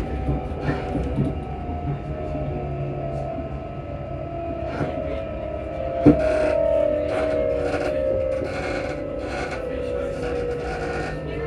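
Steady rumble and whine of a ScotRail train in motion near Haymarket, Edinburgh, with a rising tonal hum, a sharp clunk partway through and rattling carriage noise.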